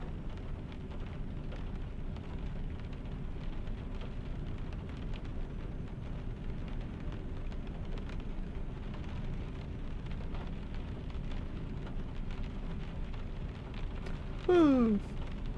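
Steady rain falls in a truck-driving video game, a continuous even hiss throughout, with a brief rising synthetic tone near the end.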